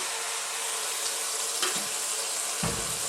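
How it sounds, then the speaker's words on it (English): A little splash of water is poured into a pot of Italian-style chicken vegetable stew with chopped vegetables and fresh tomatoes, a steady close hissing pour ending in a brief low splash. "To that now I'm going to add just a little splash of water"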